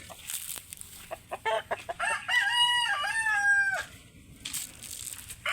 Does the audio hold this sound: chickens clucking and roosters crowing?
yes